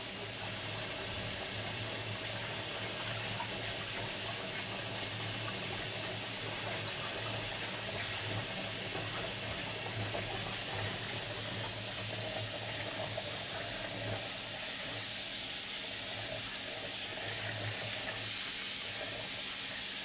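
Tap water runs steadily into a sink where dreadlocks are washed with a large amount of sea salt and peppermint essential oil, a continuous, even hiss and splash with no voices.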